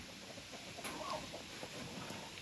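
Pradu Hang Dam chickens in a coop give soft, scattered clucks, faint and somewhat distant over a quiet background, with one or two brief louder calls near the middle.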